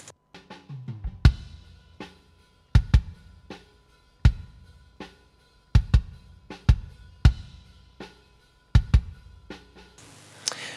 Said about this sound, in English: This is the kick without any gate at all.